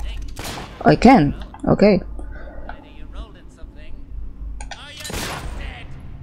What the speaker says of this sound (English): Can I just shoot that gnome?